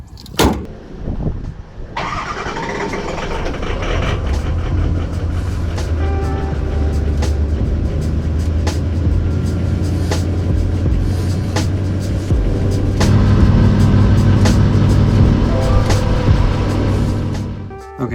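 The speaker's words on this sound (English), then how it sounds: "So let's go ahead and show you guys a cold start." A Ford 6.0 Powerstroke diesel truck with 310,000 miles cold-starts after a short crank, then settles into a loud, steady rumbling idle close by, with no talking over it.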